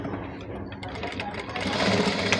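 A sewing machine stitches a scrap of waste cloth, its motor whirring in a steady, close hum that grows slightly louder toward the end.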